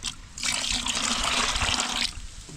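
Water is poured into a container for a painting project, a steady splashing trickle that runs for about two seconds close by, with no talking.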